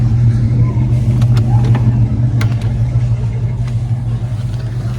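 1964 Mercedes 220SE with a sticking clutch driving on the road, a steady close engine drone from inside the car with light clicks and rattles.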